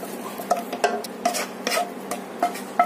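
Half-boiled rice is spooned onto an egg biryani mixture in a home kitchen, giving soft, repeated scooping and stirring thuds with light utensil ticks at an irregular pace, close and moderately quiet.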